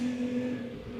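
A Rolls-Royce Black Badge Spectre electric car drives with a faint, steady motor hum and a soft whine of road noise, heard briefly and without any engine roar.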